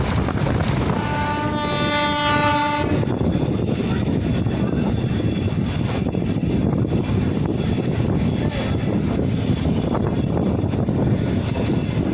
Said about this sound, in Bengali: এই মুহূর্তে আমাদের ট্রেন রামনগর ছেড়ে বেড়ে গেল